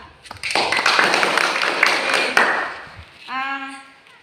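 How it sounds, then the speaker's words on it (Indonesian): Students in a church catechism class clap for a classmate named Adita in a short, dense burst of applause that fades after a few seconds, followed by a voice speaking. "Silakan tepuk tangan buat Adita"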